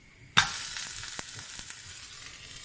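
A steady, close sizzle of pizza cooking in a non-stick frying pan, starting abruptly and continuing with soft crackles and pops throughout.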